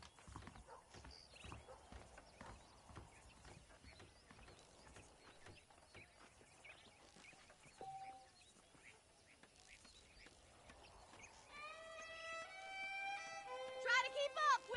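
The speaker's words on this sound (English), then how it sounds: "The horses are saddled up over here." Saddled horses in the Red Dead video game clip-clop steadily across the first half, with a horse whinnying loudly near the end while talk runs over the hooves.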